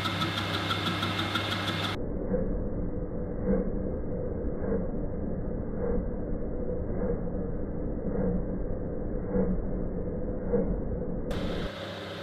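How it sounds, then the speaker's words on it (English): Metal lathe running as a parting tool squares up a corner, a steady mechanical hum with a regular rhythmic knock from the rotating workpiece, close and continuous. "I then squared up the corner with a parting tool"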